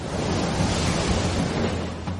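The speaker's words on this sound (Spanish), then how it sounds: "El macareo se mueve a más de 40 kilómetros por hora, la velocidad habitual del macareo del río Qiantang." The Qiantang River tidal bore surges past at over 40 kilometres per hour, a dense, loud roar of churning water and wind buffeting with no break.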